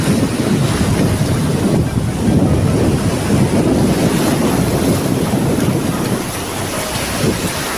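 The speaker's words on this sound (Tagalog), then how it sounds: "biglang lumakas naman ang hangin at hampas ng mga alon" Strong wind buffets the microphone while ocean waves crash steadily at the shore where fishermen haul a net, a loud, dense, unbroken roar with no speech.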